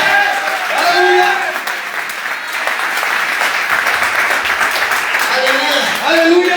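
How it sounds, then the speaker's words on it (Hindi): Congregation applauds loudly for Jesus during a Hindi-English church service, a steady wash of clapping across the whole stretch with a voice speaking over it near the end. "यीशु खुदावंद के लिए जोरदार तालियां उसकी"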